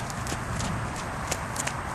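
A horse trots at a reining event in St. Louis, with quick, regular hoofbeats close by over a steady background of arena noise.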